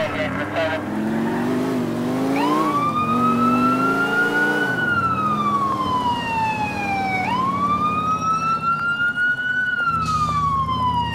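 A loud police siren from an unmarked slick-top police car during a chase in GTA IV with the LCPDFR mod wails in rising and falling sweeps, close and continuous, over engine noise with a brief chirp near the end.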